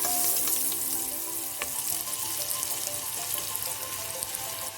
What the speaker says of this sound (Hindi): अब डालेंगे 1 प्याज कटा हुआ। फ्लेम मीडियम रखेंगे। प्याज को भून लेंगे।